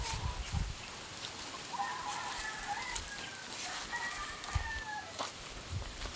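Backyard chickens at a breeding yard in Panabo City cluck and call on and off, with scattered bird chirps and light rustling, a mid-distance flock with no clear voices.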